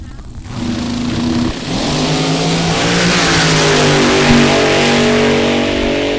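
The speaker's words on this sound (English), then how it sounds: "Supercharged, big block powered," Supercharged big-block top dragster with a rumble seat roaring down a drag strip at Mo-Kan Dragway, a loud sustained engine howl rising steadily in pitch as it accelerates, with a track announcer talking over it.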